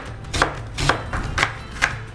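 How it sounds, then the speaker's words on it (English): Knife chopping onions on a cutting board while a potato roasts nearby, four crisp, evenly spaced chops sounding close and alone with no talking. "First, I'm going to start by chopping some onions."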